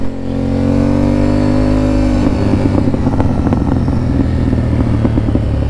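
A motorcycle engine revs up and then drops off, breaking into a loud, crackling run of irregular exhaust pops and burbles that continues to the end, heard close with no talking.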